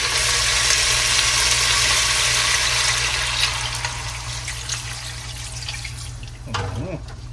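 Water runs steadily into a cooking pot holding pig tail for Jamaican stew peas, a continuous hissing pour that slowly softens and thins toward the end, with a brief clatter near the close.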